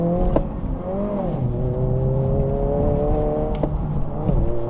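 A 2025 Honda Civic Si with a manual transmission accelerates on poor winter roads with cold tires, its engine note climbing steadily through the gears with a brief drop at a shift and then rising again, close and continuous.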